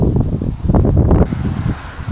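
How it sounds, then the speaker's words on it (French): Wind buffeting the microphone at Port Est on Réunion Island, loud low rumbling gusts near the container cranes and ship, with no other clear sounds. "Au-dessus, les nuages aussi sont poussés par le vent là."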